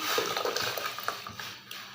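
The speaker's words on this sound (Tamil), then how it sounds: "கொதிக்க வச்சுருக்க தண்ணி அதில் இந்த ஜவ்வரிசியை நம்ம போட்டுக்கலாம்" Pot of boiling water on the stove as soaked sago pearls go in for a sweet dish, a close, busy hiss of bubbling with small splashy ticks and plops scattered through it.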